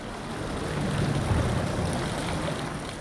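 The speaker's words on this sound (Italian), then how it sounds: "allagato il sottopasso per Fagarè, con l'acqua che scorre attraverso i muri" Floodwater rushes through the walls of a flooded underpass, a steady broadband roar of flowing water that swells slightly in the middle and carries on without talk.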